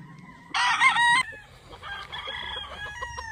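Chickens and a rooster at a poultry farm in San Miguel, Bulacan, with one loud, close crow followed by overlapping clucking and calling from the flock.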